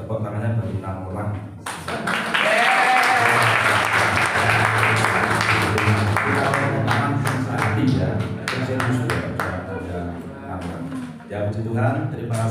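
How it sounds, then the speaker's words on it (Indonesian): A church congregation breaks into sustained applause after a prayer, a dense wash of clapping that swells loud and then tapers, with a voice speaking over it near the start and end. "Ya, tepuk tangannya bagi 6 orang."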